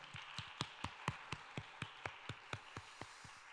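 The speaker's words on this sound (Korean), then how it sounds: "감사와 영광의 박수 우리 크게 한번 올려드릴까요?" A church congregation claps in slow, even unison, a dozen or so distinct beats at a steady rhythm, fairly faint and without talk.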